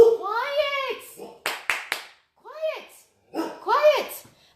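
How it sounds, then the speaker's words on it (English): Several dogs barking indoors in a home kitchen, with sharp bark bursts and howl-like yelps in repeated clusters, loud and close, interspersed with brief pauses. "So while you listen to them bark"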